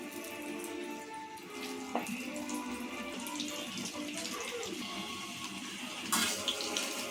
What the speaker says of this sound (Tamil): பக்கோடா பொரிச்சு எடுக்கிறதுக்கு எண்ணெய் சூடாயிடுச்சு, பக்கோடா போட்டுக்கலாம்.